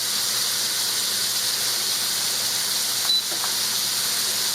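A new pressure cooker vents steam in a steady, loud, high hiss that runs unbroken throughout, with a faint brief click partway through.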